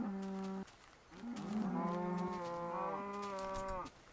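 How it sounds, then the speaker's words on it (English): Several cows in the video game Minecraft moo in overlapping low, drawn-out calls, a short one first and then a long chorus, fairly close. "Why are there so many cows?"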